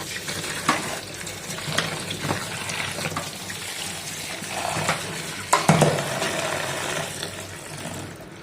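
Boiled banana flower being rinsed under running water, a steady close trickle and splash with occasional louder knocks and sloshes, no voices.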